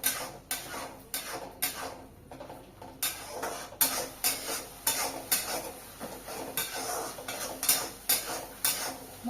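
Spices mixed with yogurt are stir-fried in a pan for egg curry, with a quick, regular series of spatula scrapes and knocks against the metal over a soft sizzle, close and steady.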